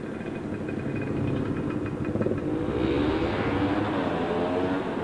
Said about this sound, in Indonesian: ini ada dua tak racing ya.